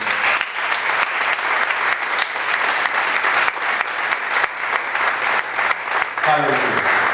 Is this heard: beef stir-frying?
no